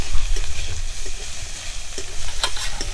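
Chopped onion fries in a pan for a bread and potato snack, giving a steady close sizzle with repeated scraping stir strokes throughout, no voices.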